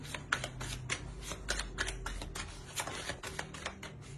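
Tarot cards shuffled and slid across a table as one card is drawn and laid onto the spread, a quick run of soft papery flicks and taps, close and quiet with no talking.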